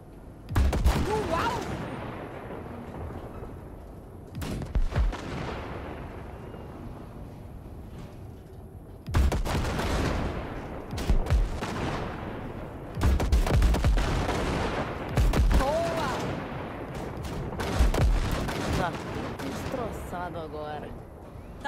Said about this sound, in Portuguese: o Basilisk é veículo de carga. Mas ainda dá para dar uns tiros.